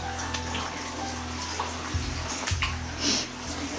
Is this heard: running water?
yes